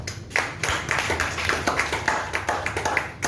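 Audience clapping at an inauguration ceremony for new members and officers, a steady run of separate hand claps that stays even in loudness throughout, with no talk over it.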